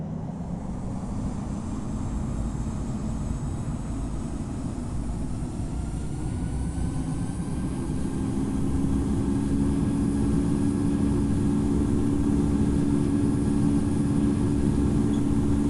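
Boeing 787 jet engines spooling up for takeoff in the Infinite Flight simulator at Sydney, a steady loud roar that builds and holds throughout with no talk.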